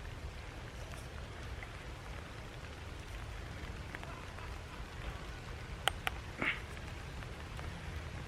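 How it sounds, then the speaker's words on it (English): Rain falls outdoors as a soft, steady patter and hiss, fairly faint, with a few sharp clicks and a brief rustle near the end and no speech. "It just started raining."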